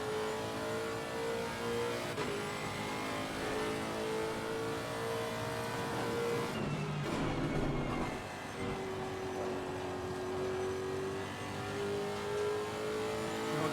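A GT race car engine in Assetto Corsa Competizione holds a steady mid-pitched drone with gradual pitch shifts and a brief rougher burst of noise midway, running alone at moderate loudness.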